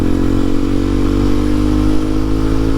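A Harley-Davidson motorcycle engine idles loud and close with a deep, steady, lumpy rumble that holds evenly throughout, no voices over it.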